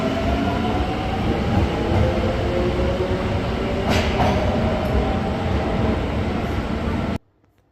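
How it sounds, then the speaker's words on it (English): A Kintetsu train with a Mitsubishi GTO VVFV inverter running: loud, continuous rumbling with rising and falling electric motor whine tones, a brief brake squeal in the middle, then the sound cuts off abruptly. "This train has a Mitsubishi GTO VVF. I got 2 footages of these trains."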